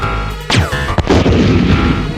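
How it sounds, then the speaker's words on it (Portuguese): Bazooka shots boom in Resident Evil, a sharp blast followed by a second heavy explosion and a rumbling, crackling tail, loud and alone. "São só 3 tiros de bazuca, então nem é tão difícil assim"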